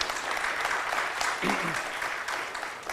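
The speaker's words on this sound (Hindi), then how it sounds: "आई थिंक ताली की गड़गड़ाहट बहुत हल्की हो गई है।" A seminar audience at an anniversary celebration event applauds steadily for the whole stretch, dense and fairly loud, with a brief voice rising faintly beneath the clapping.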